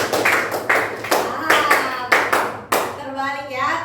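Schoolchildren in a classroom clap their hands in counted patterns, sharp claps in quick groups of two or three with brief pauses, loud and close, ending in a softer ragged patter.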